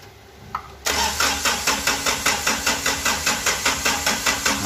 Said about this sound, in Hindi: और करते हैं स्टार्ट गाड़ी को।